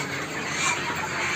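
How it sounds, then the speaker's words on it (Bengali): Broiler chickens on a poultry farm in Diphu, Karbi Anglong, squeal and squawk in a dense, continuous high-pitched chorus, close and fairly loud, with no talking. "বাইদেউ ব্রয়লার লব আহিছে।"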